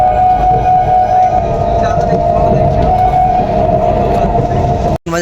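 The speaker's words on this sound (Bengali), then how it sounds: "আর পিছনে হর্ন দিচ্ছে, আমাদের ট্রেন ঢুকছে" A train pulling into a busy station at Sealdah, its steady rumble and a sustained horn tone running throughout, with crowd noise around it and voices talking over the top.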